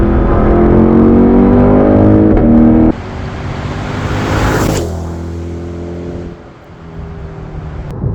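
A loud car engine roars and revs, its pitch climbing and shifting through gear changes, then settling to a lower rumble toward the end.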